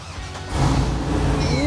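The engine of a Chevrolet Trailblazer SS being built into a drift car cranks and fires up, then settles into a loud, close rumble.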